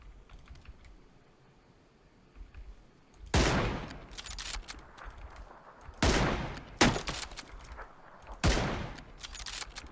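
Distant gunfire in the PUBG battle royale game: sharp bursts of shots at irregular intervals, several loud cracks separated by quieter stretches of low background noise.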